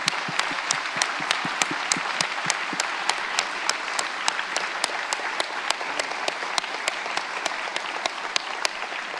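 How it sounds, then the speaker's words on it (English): Audience at a literary evening with a novelist applauding in a steady, continuous wash, with sharp individual claps standing out in a regular rhythm over the crowd. "I would very much like to give her an applause because she did a splendid job with them."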